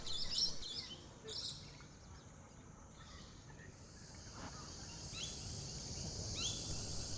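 In a wetland, a chorus of cicadas makes a steady high buzzing, faint and distant, with some brief chirps near the start and a continuous drone throughout.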